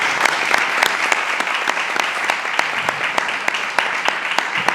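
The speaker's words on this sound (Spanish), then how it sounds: "Así que un aplauso para José Antonio Viejo." An audience at a history lecture claps steadily throughout, dense applause with sharp individual claps standing out, sustained without pause.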